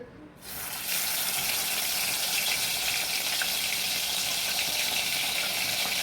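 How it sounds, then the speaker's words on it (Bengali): Fish (folui) pieces frying in oil in a pan, a loud, dense sizzle that surges up within the first second and then holds steady and close without any voices. "এই যে মাছ ভাজা হয়ে গেছে"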